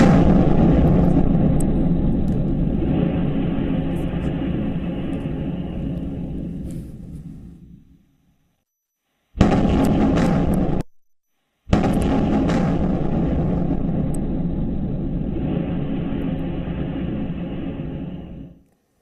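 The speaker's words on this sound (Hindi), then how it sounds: "ये विस्फोट की आवाज, ये धमाकों की आवाज" Sustained heavy rumbling roar of wartime explosions in the Russia-Ukraine war, loud and continuous, cutting out abruptly into silence, then returning in short bursts and another long rumbling stretch.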